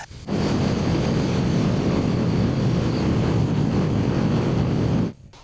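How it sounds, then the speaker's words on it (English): Kawasaki Eliminator 500 cruiser motorcycle on a test ride, its engine drone mixed with heavy wind rush, loud and constant for about five seconds before cutting off abruptly. "The engine is more progressive, so it doesn't have that characteristic torque of cruiser bikes"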